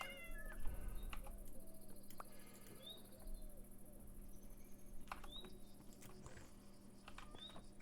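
Cat meowing, several short, rising meows spread across the clip, fairly faint against a low steady hum and light background noise.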